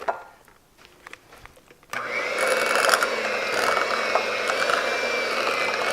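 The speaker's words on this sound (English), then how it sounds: "I'm gonna just mix it up with my hand mixer today." A hand mixer beats cream cheese for an Instant Pot cheesecake; after about two quiet seconds the motor kicks in with a steady, loud whirring drone that holds to the end.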